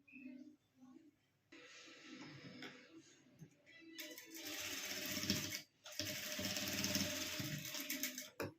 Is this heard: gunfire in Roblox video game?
no